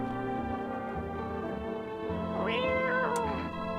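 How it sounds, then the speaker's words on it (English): A cat meows in the video game No, I'm Not A Human, two clear wavering cries near the end over steady background music, with no talk. "Cat, meow."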